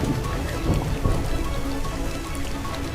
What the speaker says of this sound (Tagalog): sa kabila ng malakas na ulan at baha